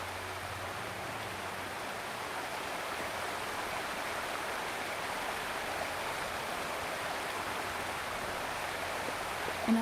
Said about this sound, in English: There's something behind the waterfall.